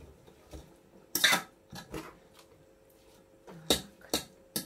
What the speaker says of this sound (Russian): хорошенечко нужно его перемешать. Да, неудобно мешается.